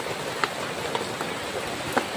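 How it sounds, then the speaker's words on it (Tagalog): Steady rain patters on outdoor surfaces, an even hiss with a few louder drops standing out now and then, soft and continuous throughout. "pahina ng pahina yung ulan"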